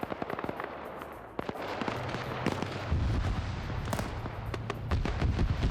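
Dense bursts of video game gunfire in a military squad shooter, sharp shots crackling continuously with heavier rolling fire from about three seconds on, loud and busy throughout.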